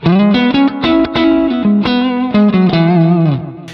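Stratocaster played clean on its neck pickup through a Helix amp modeler, strummed chords and single notes ringing with a warm, rounded tone and slight shimmer, no talking.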